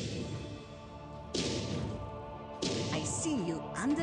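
Classic-style gunshot sounds for the new hero Fahandro's basic attack in a mobile MOBA game, two sharp bursts about a second apart over steady game background music.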